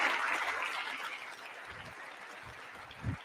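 An audience at a political speech applauds, with the clapping starting loud and then fading into a broad wash, while a few low thumps come through near the end.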